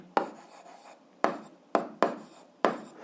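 Pen strokes writing out an algebra solution by hand on paper: five sharp, separate taps and scratches spaced unevenly over a few seconds. The marks are close, fairly quiet, and heard with no talk.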